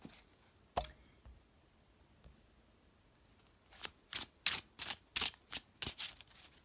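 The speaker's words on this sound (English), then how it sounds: "I'm going to give these a shuffle." A single sharp card snap, then a quick run of Hermetic Tarot cards being shuffled by hand in close, crisp bursts.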